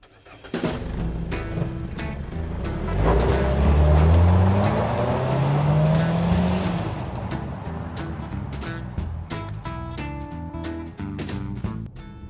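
2014 Mazda CX-5 Grand Touring setting off and accelerating on an open road, its engine rising through a gearshift to a steady growl mixed with road and wind rush, then easing back, with light clicks and interior knocks.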